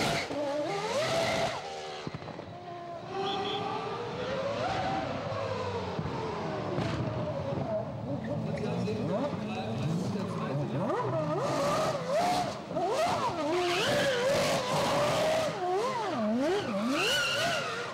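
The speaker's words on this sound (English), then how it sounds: "Getting the car to spin round involves switching the bias of the brakes to the front wheels and holding them on with the left foot." A McLaren Mercedes Formula One car with traction control off spins on cobblestones, its engine revving and wailing in rising and falling sweeps with tire squeal, loud and close, while someone speaks over it.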